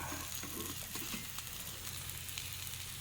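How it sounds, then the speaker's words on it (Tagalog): Matambaka fish sizzles steadily on a grill while being turned, a dense, continuous frying crackle close up with no talking. "Baliktarin natin ito guys. Inihaw na matambaka."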